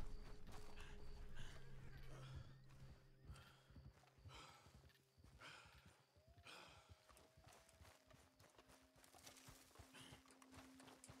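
Horse hooves clip-clop at a steady walking pace in Red Dead Redemption 2, with creaking tack and mechanical sounds layered over an ongoing game soundscape, moderately loud and unbroken throughout.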